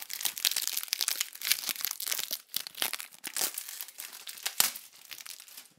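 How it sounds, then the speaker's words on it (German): Plastic film wrapping is peeled and pulled off a boxed album fan box, a close series of sharp crinkling and crackling bursts with short pauses, and no talking. "ich befreie das Ganze mal ganz kurz von der Folie"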